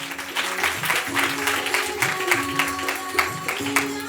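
Loud applause from a church gathering at a hymn release ceremony as the bishop is welcomed, sustained crowd clapping over a held musical tone, steady throughout.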